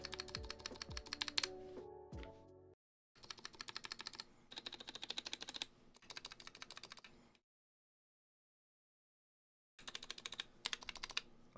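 Bursts of keystrokes typed on a Keychron K6 keyboard with lubed Healios switches, close and clear, with a few sharper clacks at the start and a long silent pause between runs of typing.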